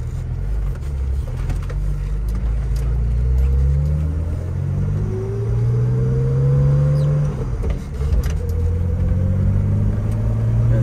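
A 1984 BMW 633CSi with a smooth six-cylinder engine and five-speed manual drives along, its hum rising in pitch through the gears with a shift around 3000 RPM, heard loud from inside the cabin over road rumble.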